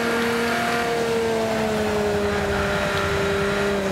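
Race cars in Forza Motorsport 5 roar together in a loud, steady engine drone that holds a sustained pitch throughout, with no voices.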